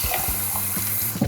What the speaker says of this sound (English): So be sure to check every faucet, every place where water can be.